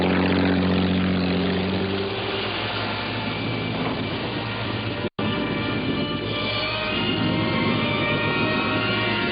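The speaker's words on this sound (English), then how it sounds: "I saw the strange boat speeding away." A motorboat speeding away at sea produces a loud, steady engine drone with a strong droning hum, broken once by a very brief dropout midway.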